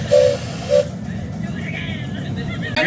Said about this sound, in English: you got this miniature steam train, actual working steam train is pretty cool